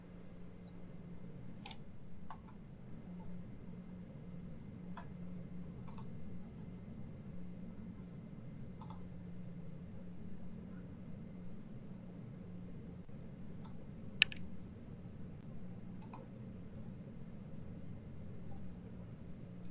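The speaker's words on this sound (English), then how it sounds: "So I see that some people are typing." Typing on computer keyboards during an online teachers' webinar, faint scattered key clicks spread across the stretch over a steady low hum, with no talk.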